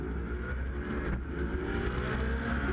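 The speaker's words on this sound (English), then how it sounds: "Now here's the start again from Siepmann's BMW." A BMW race car and the rest of the field get away at the start of a race at Jyllandsringen, filling the air with a loud, continuous roar of engines that holds a steady, rumbling drone throughout.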